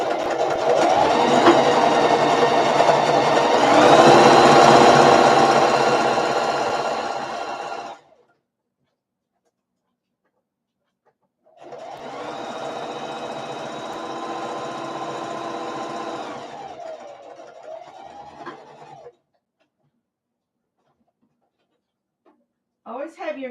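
A sewing machine stitches a bag in two long runs of steady whirring, about eight seconds each with a pause between, speeding up and slowing smoothly, close by and alone.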